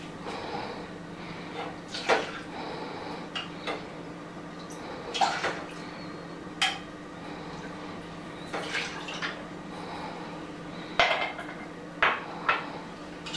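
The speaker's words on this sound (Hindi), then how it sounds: "इसमें हम डालेंगे तीन गुना पानी क्योंकि मुझे पतला पेस्ट बनाना है।" Water added to rice flour and stirred in a pot for rice papad batter: intermittent splashes, scraping and clinks of a spoon against the pot, separated by quiet pauses.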